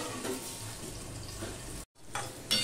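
Potatoes frying in a pan for a vegetarian okra dish give a steady, moderate sizzle with a brief break partway through, then the crackle resumes.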